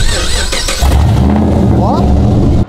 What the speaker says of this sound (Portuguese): Você viu, amor, com o carro liga?